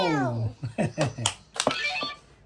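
A toy cat squeezed to make it meow gives a short series of bright, harmonic meow-like squeaks, close and fairly loud, with a voice talking around them.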